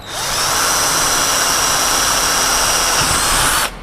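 A cordless power tool fastening a clamp runs in one loud, close, steady high whine for about three and a half seconds, then cuts off abruptly.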